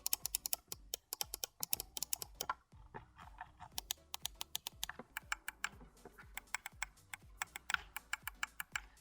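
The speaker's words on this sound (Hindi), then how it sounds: "इस माउस के बटन्स में ऑमरॉन स्विचेस यूज किए गए हैं" Omron-switch buttons on an XPG gaming mouse are clicked in a rapid, uneven stream of crisp, close clicks for about nine seconds, with no talking.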